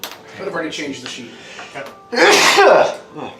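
One loud, abrupt sneeze from a person at a tabletop role-playing game session, preceded by a few seconds of casual talk and followed by a short trailing breath.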